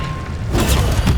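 Incendio fire spell cast in Hogwarts Legacy, a loud booming whoosh of flame that swells suddenly after a quieter moment and roars on briefly.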